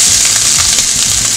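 Sliced onions frying in hot canola oil in a pan over medium-high heat, a steady loud sizzle with crackling pops throughout, no voices.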